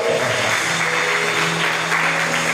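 A church congregation clapping during a Sunday service, a continuous wash of hand claps with sustained tones from music or voices beneath, steady and fairly loud throughout.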